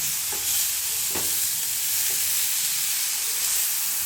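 Finely chopped green chickpea leaves being stirred in a pan, a loud, dense sizzle with a few scraping, rustling strokes near the start, close and steady, with no voices.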